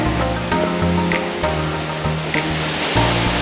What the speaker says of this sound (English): you can actually go behind 4 of these waterfalls